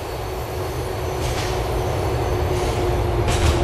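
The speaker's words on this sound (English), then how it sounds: "This is the J train." A Grand Theft Auto IV subway train on the J line rumbles along steadily, a loud continuous roar of wheels on rails with a faint sustained tone and brief rising squeals.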